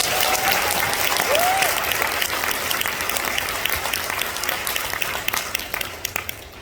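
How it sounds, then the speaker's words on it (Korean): Audience at a business success seminar applauds in thanks, a dense, steady wash of clapping that fills the room for several seconds before thinning into scattered claps at the end. "감사의 박수 한번 부탁드립니다"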